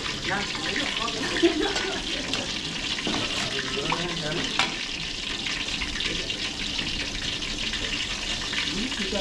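Water runs into a pan of frying pork belly during catering cooking, a steady rushing pour that lasts throughout with sizzling underneath and brief talk over it.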